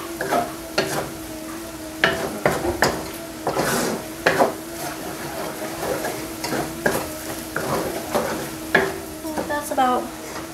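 Soup ingredients sizzle in a pot for crab noodle soup while a spoon stirs and scrapes against the pot, producing repeated close clinks and scraping strokes over a steady frying hiss.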